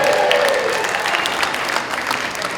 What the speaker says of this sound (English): I thought that would get the biggest applause of the night.